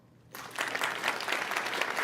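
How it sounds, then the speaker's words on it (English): Audience applause bursts in suddenly after a quiet moment, a dense, steady patter of many hands clapping that holds for the rest of the brief stretch. "Give him a round of applause."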